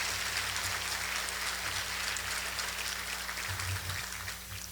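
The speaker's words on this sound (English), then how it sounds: "Give it a round of applause." An audience at a business forecast event applauds in a dense, sustained round of clapping that lasts nearly five seconds, heard alongside a low electrical hum and tapering slightly at the end.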